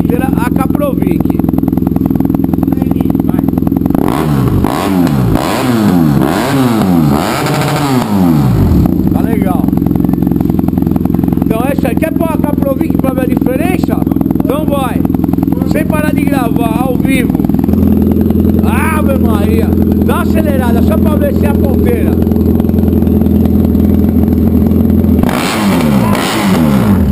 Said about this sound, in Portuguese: vamos acelerar aqui, Roberto